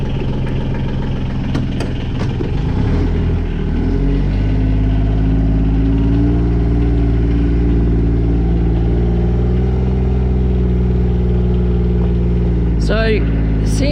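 A John Deere Gator-style farm utility vehicle engine cranks briefly, catches, and settles into a loud, steady low idle close to the microphone, with a short squeal near the end.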